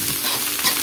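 Rice for nasi goreng telur fries and is stirred in a hot pan, a close, loud, continuous sizzling hiss with scraping strokes, no voices.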